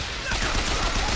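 Flak cannon blasts in the shooter Bioshock Infinite, a dense, continuous burst of rapid gunfire and explosions filling the whole moment at steady loudness.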